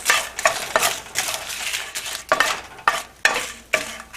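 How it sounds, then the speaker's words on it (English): Dried red chilies roast in a pan with a teaspoon of oil, crackling and sizzling as a utensil stirs them in repeated quick scraping strokes, loud and close with no voices. "Now I'm going to add my red chilies here. Just quickly roast them."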